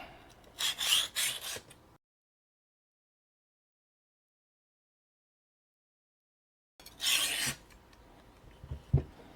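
An old Chicago Cutlery Santoku blade is stroked across a Katanis 400 grit diamond plate. Quick rasping scrapes come in two short bursts separated by several seconds of total silence.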